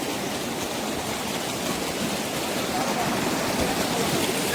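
A river stream at night rushes in a steady, dense wash of flowing water during a night fishing trip, close and constant throughout with no breaks.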